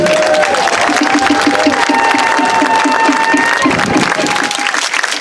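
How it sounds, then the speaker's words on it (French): A festival audience at Heiva applauds the performers, dense continuous clapping with some cheering, loud and steady throughout while a tonal sound and rhythmic beats carry on underneath. "je vous demande quand même de les applaudir, s'il vous plaît"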